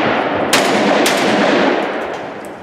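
Tactical 12-gauge shotgun fired twice on a shooting range, two loud sharp close blasts about half a second apart, followed by a fading echo and no talking.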